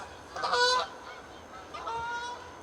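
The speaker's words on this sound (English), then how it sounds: "Canada geese, they're so annoying." Canada geese honking outdoors, two distinct calls: a louder nasal honk first, then a fainter second honk about a second later, with a quiet background between them.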